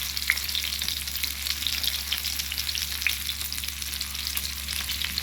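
Fish coated in masala fries in a pan of hot oil, a constant close sizzle with scattered crackles and pops running steadily throughout, with no talking.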